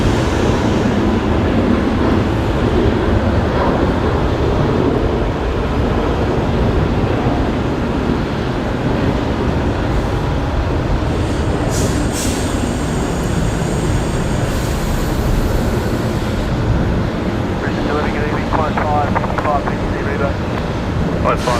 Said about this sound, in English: Right, next departure now rolling. Another one heading to Sydney tonight. Qantas 544